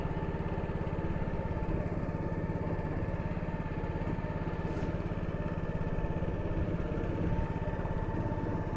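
A boat engine runs steadily on the Malarikkal lagoon, a continuous close mechanical drone with an even rhythmic chug and no talk.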